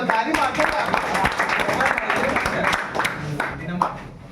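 Students in a classroom clapping together, a dense burst of applause that runs for several seconds and fades at the end, with voices mixed in.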